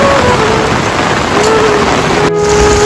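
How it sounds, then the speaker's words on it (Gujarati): A steady, loud wash of heavy rain in Dwarka hisses continuously, with a faint tonal hum running underneath. "જબરદસ્ત વરસાદ પડે છે"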